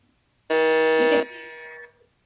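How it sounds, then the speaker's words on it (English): A quiz show buzzer sounds once as a contestant hits it in a teachers' quiz semi-final, a loud harmonic tone that drops to a softer tail before cutting off, with no voices over it. "Miss Malini going on the buzzer there"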